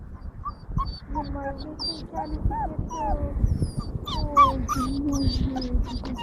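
A small dog whimpers and yips in thin, high, sliding whines while people talk softly nearby.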